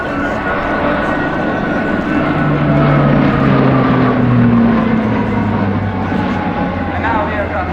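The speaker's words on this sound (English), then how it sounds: "And now the aircraft maneuvers for a nice sweet wing over." An Italian Air Force Alenia C-27J Spartan military transport flies a wingover during an airshow display at Sanicole. Its propellers and engines give a loud, sustained drone, and the pitch slides downward as it passes and climbs away.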